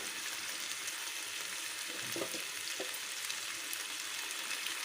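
Tomato pieces, green chillies and tamarind cook in a pan with a steady, soft frying hiss throughout, broken by a couple of faint stirring scrapes near the middle.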